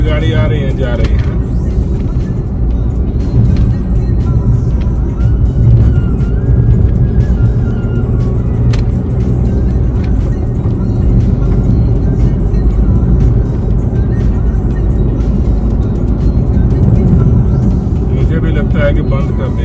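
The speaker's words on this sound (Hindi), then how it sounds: "बाकी ये बगल वाले रोड से गाड़ी आ रही है, जा रही है।" Steady traffic rumble from cars passing on a road beside the New Dwarka Expressway, a continuous near roar of engines and tyres with no quiet gaps.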